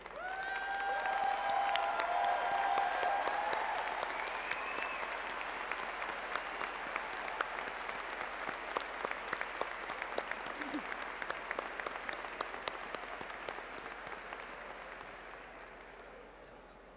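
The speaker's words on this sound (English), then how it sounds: "I ask all UNI alumni in the audience to please stand and applaud the newest members of the UNI alumni" Alumni in a commencement audience stand and applaud new university graduates, a broad sustained ovation of many hands that swells early and slowly tapers, with faint cheers and brief voices at the start.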